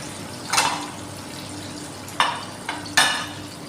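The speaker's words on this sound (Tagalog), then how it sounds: "So malapit na maluto mga katambayan yung ating fried chicken." Chicken that was boiled in milk first, now frying in hot oil, gives a low steady sizzle with a few brief louder crackles and stirring scrapes, close by and with no talk.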